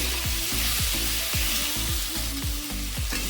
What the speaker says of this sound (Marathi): चवीपुरतं मीठ घालून घेऊया आणि हलकंसं आता आपण याला परतून घेणार आहोत।